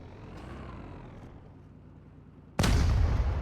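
Heavy weapon fire in the PUBG Mobile battle game: a sudden loud, sustained blast bursts in after a stretch of low ambient rumble and keeps roaring to the end, close and dense.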